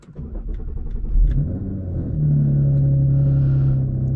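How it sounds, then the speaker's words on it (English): An Audi SQ5 fitted with AWE downpipes and a Touring catback exhaust fires up from cold, a steady deep rumble that swells and holds at a high idle, loud and close with no talk. "So again, cold start, and we'll go from here."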